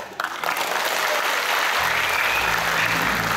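Concert audience at a performing arts hall applauding loudly and steadily, a dense sustained wash of many hands clapping that swells after a brief quieter start and continues throughout without talk.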